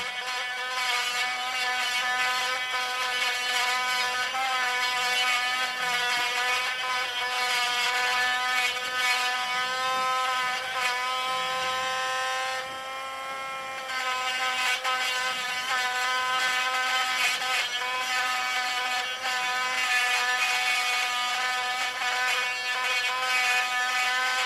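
A podiatry nail drill with dust extraction works on severe fungal toenails. It gives a steady, close, high-pitched electric whine with a humming undertone, dipping briefly midway before resuming.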